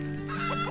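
Chickens cluck in a short, close burst in the farming game Farm Manager 2018, a quick run of rooster-like clucks over a steady background hum.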